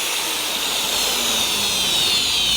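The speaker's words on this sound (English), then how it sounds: "Then we shall drill in using 10mm drilling bit, but let me first sharpen it" A 10mm drill bit is sharpened, likely on a grinding wheel, giving a continuous loud, harsh hiss with a steady high whine throughout.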